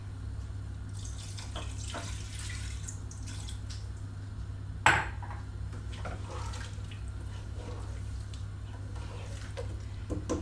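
Steady running water streams continuously into a pressure cooker of beef handi over a low constant hum, with a single sharp clink midway through.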